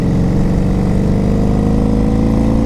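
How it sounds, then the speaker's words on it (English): A 1987 Honda Super Magna motorcycle engine runs steadily nearby, a loud, even mechanical drone with a dense low rumble and no talk over it. "the engine sounds solid"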